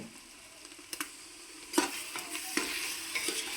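Ginger garlic paste fries in a pan with chopped tomato and curry leaves for a chicken pulao, giving a soft sizzle with a few scraping stirs from a spoon, close and with no talk.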